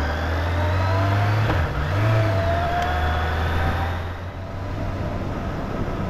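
A Suzuki GSF motorcycle climbs a winding mountain pass road, its mid-pitched engine droning steadily and close with a brief throttle change partway through, no voices.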